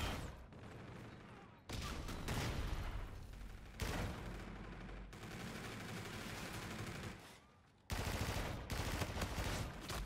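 Sustained bursts of automatic gunfire in Call of Duty: Infinite Warfare multiplayer, loud dense volleys broken by brief pauses, with occasional player voices mixed in.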